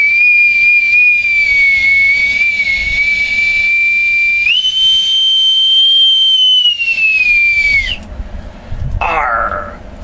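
A bosun's whistle pipes a long, loud, shrill sustained tone that steps up in pitch midway, then breaks off into a brief warbling trill at the end.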